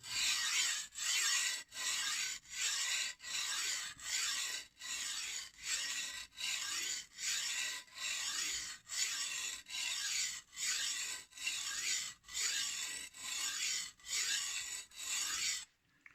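A chipped kitchen knife is sharpened on a King whetstone in about sixteen even rasping strokes, each a short gritty scrape separated by a brief pause, close and alone without talk.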